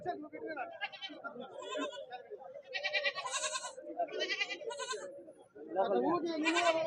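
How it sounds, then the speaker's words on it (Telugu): Goats bleat repeatedly at a weekly Saturday livestock market in Dubbaka, loud, wavering calls, some overlapping, close by, mixed with people talking. "మేకపోతులు ఉన్నాయండి"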